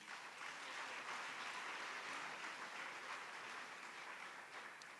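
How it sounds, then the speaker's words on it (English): An audience applauds at an education department event for a college, steady dense clapping heard faintly from a distance and lasting the whole stretch. "she deserves a round of applause"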